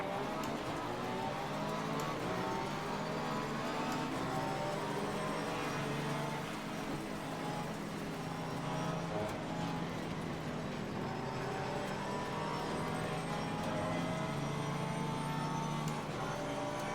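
Lamborghini Gallardo race car engine in Assetto Corsa Competizione, a steady loud drone of harmonic engine tones holding near the limit with slight pitch drift, no speech over it.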